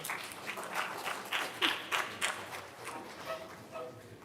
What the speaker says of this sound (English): So you can do a clap, clap, snap, snap.